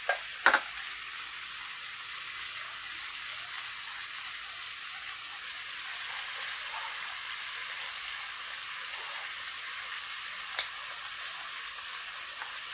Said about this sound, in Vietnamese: mình không cần chiên quá vàng, mình chỉ cần chiên sơ lược ngang thôi nha